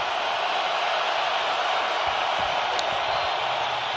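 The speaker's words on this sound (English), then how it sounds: "Crowd in full throat." Packed stadium crowd at a Bills versus Dolphins NFL game roars in a dense, steady wash of noise, loud and continuous with no break.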